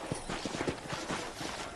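A horse's hooves clip-clop in Red Dead Redemption, quick rhythmic thuds of a few steps at moderate distance, fairly quiet against a faint ambient bed, with no speech.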